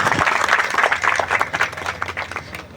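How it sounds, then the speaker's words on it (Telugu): An audience at a school alumni reunion claps in thanks to their teachers, a loud burst of mixed handclaps that tapers off. "మా ప్రియ గురువరులందరికీ మన చప్పట్లతో మన కృతజ్ఞతలు"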